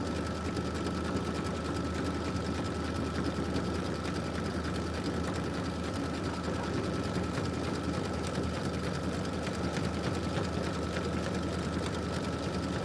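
An embroidery machine stitches a basket detail and a decorative outline with a steady, unbroken mechanical whir and a low hum that holds an even level throughout, with no voices.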